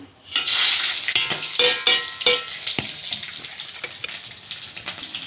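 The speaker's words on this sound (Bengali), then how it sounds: "এখন আমি 5 ফোড়ন দিচ্ছি" Panch phoron spices tempering in hot oil for vegetarian pui shak, a loud burst of frying sizzle that flares up at once and hisses steadily, with a few clicks of utensils against the pan.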